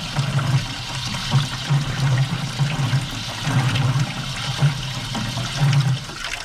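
Water runs from a house tap to purge air from the plumbing after a kitchen faucet repair, a steady close gush with rhythmic sputtering bursts as air spits out of the line.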